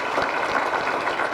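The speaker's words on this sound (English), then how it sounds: "Let's give them a round of applause." A crowd at a mayor's book club event in a school applauds, producing a steady, moderately loud wash of clapping with no break.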